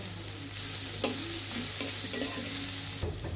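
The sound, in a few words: garlic and ginger frying and being stirred in a pan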